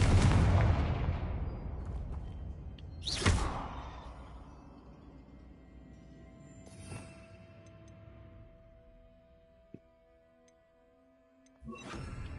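The Confringo fire spell in the video game Hogwarts Legacy sets off several booming blasts: a loud one at the start, another sharp burst soon after, and then fainter explosions spaced over the following seconds, each trailing a fading rumble.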